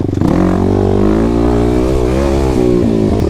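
A 2021 Kawasaki KLX300 dirt bike fitted with a Barker exhaust system idles loud and close, its deep steady engine note swelling slightly mid-clip and then settling back.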